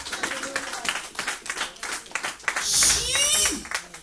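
A church congregation bursts into applause, clapping swelling loud for about a second amid rhythmic claps and voices talking throughout.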